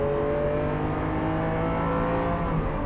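A 740bhp Lamborghini Aventador SV engine revs hard in second gear around 5,000 rpm on a track, giving a loud, steady, close roar with a rising harmonic whine throughout.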